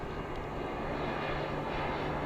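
A fixed-wing airplane passes overhead as a steady, broad engine drone, holding at an even level for a couple of seconds with no voices.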